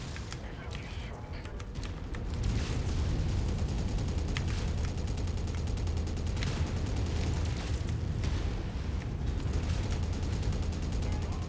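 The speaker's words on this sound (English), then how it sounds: "this spider is getting wrecked by Rihanna firing cannons at it from the dropship" Cannons firing from a dropship at an enemy mech in Mechwarrior 5, a steady barrage of booming shots and explosions under continuous talk from a player.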